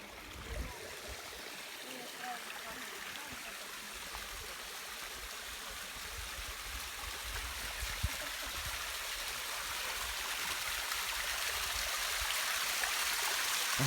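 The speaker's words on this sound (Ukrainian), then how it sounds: "Це каскадний водоспад Тернопільській області." A cascade waterfall in the Dniester canyon, Ternopil region, rushes in a steady, dense roar that holds evenly throughout and swells slightly toward the end, with no talk over it.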